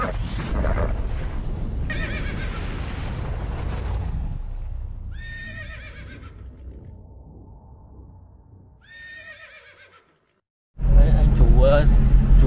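A cremello horse neighs several times in Muong Nhe, Dien Bien, Vietnam, its shrill whinnies rising clearly over a rumbling vehicle and nearby people talking, with loud speech taking over at the end.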